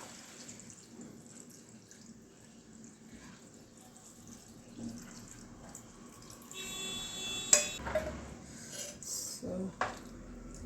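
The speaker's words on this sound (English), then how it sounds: "Now I will add a freshly prepared coconut milk." Freshly made homemade coconut milk is poured into red Thai curry paste, giving a faint liquid trickle and splash amid a quiet kitchen with a few soft clinks of utensils.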